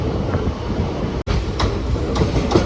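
Passenger train running from Shoranur to Coimbatore, a steady rumble of wheels and carriage noise heard from onboard with faint rhythmic clacks and a momentary dropout partway through.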